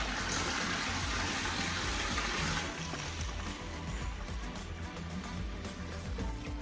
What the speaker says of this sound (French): je vais remplir la pompe d'eau. On a un robinet juste par ici.